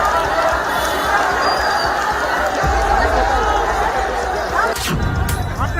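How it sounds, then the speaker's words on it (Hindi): An angry crowd of protesting students pressing forward outside a chief minister's residence in a loud, continuous roar of many voices and shouting, with a sharp burst near the end. "लेकिन छात्रों की भीड़ गुस्से में लगातार आगे बढ़ रही थी।"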